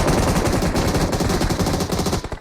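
Loud, sustained automatic gunfire in PUBG Mobile, a dense rapid stream of shots close up, continuing without pause until it thins near the end.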